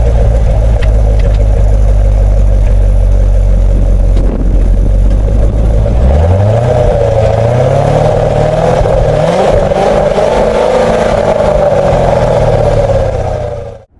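A 2014 Corvette with a 460-horsepower engine accelerates hard up a freeway entry ramp, heard from inside the cabin, its loud engine note climbing through several gear changes before tapering off.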